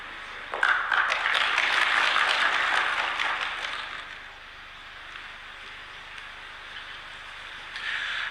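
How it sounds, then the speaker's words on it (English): Applause from the audience at a justice council ceremony at State House, Nairobi: sustained, dense clapping from a sizable crowd for several seconds, tapering off into a quiet room before a fresh burst of clapping begins at the end. "Another round of applause for Chief Justice"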